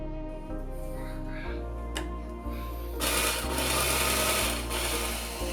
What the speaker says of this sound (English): For this one, I needed to use the blade grinding attachment.